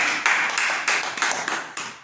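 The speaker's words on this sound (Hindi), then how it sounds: "एक बार तालियां बजाइए" An audience at a sadhvi's religious discourse in Pangri claps in bursts, bright sharp strikes recurring in a fairly regular beat, close and loud with no talk over them.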